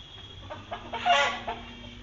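Chickens on a farm raising goliath and local birds for meat cluck in short, soft calls, followed by a brief, louder crowing-like call in the middle of the clip.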